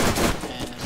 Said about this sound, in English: I'm shooting them again.